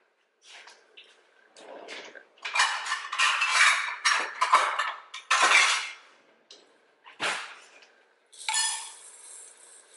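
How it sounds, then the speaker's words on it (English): Dry uncooked instant rice poured from a container into a cooking pot, a loose rattling, hissing pour in several uneven bursts with short pauses, close by and without talk. "I'm gonna add 3 cups of rice."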